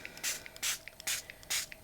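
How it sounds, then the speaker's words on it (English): A handheld spray bottle misting water onto a golf bag during embroidery work, four short bursts in a steady rhythm, with faint clicks of the trigger between them, close and alone. "I'm going to lightly spray some water on the areas that I know they still have this plastic on here"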